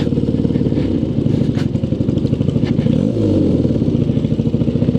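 A BMW R65 or Suzuki Katana motorcycle engine running loud and close during a test ride, with a steady throbbing rumble and a brief rev rising and falling near the middle.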